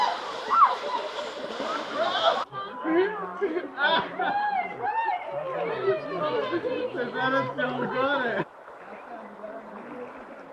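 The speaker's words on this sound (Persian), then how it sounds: "بچه های گروه در حال آبازی." A group of people plays and splashes in a mineral spring pool beside the Firuzkuh road past the Veresk bridge in summer, with lively overlapping shouts and chatter mixed with splashing water throughout.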